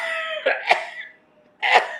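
Two or three harsh, close coughs from one person, a short pair followed a moment later by another loud burst, with no other sound between them.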